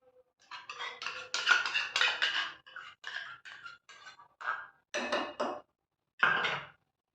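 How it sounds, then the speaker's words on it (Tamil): A utensil scrapes and clinks against a pot while curd is stirred into aviyal, a mixed vegetable dish, in short bursts with brief pauses, close up and alone. "இப்போ தயிர் சேர்த்துக்கலாம்"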